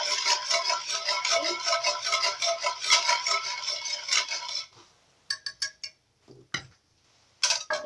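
A spoon scraping and tapping in a bowl while mixing ingredients with coarse sugar, rapid gritty clinks for several seconds, then a few isolated taps after a pause.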